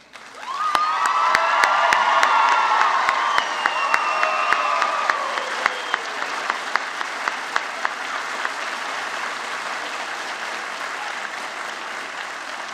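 Loud sustained applause with cheering and a few whoops fills a convocation ceremony hall, swelling early and then thinning into scattered individual claps that taper off over several seconds.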